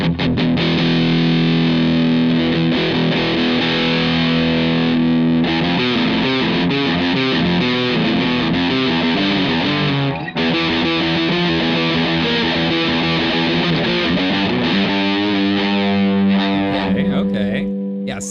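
Heavily distorted electric guitar through a British amp simulator chugs and rings out steadily at high volume, with sustained crunchy tones throughout and brief breaks between phrases.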